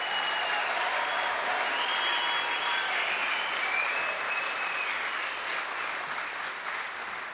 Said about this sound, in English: So let's give all the tribes a round of applause.